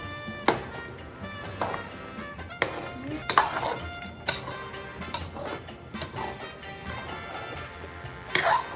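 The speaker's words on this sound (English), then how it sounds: "we're gonna add the calabaza at this point. And we're gonna give it a mix." Calabaza pumpkin being stirred into a pot of Boricua-style sancocho stew, a spoon knocking and scraping against the pot in irregular clinks and taps, close and moderately quiet.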